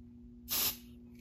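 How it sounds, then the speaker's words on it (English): One brief hiss of an aerosol smoke spray can into a smoke detector, close and sharp, over a low steady hum. "I'm going to activate the smoke detector by just spraying some smokes"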